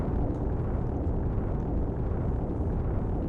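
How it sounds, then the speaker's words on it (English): A steady, deep earthquake rumble from the video game Tales of Symphonia, continuous and fairly loud throughout with no breaks, heard on its own without any talk. "looks like the people of Tethe'alla are experiencing earthquakes."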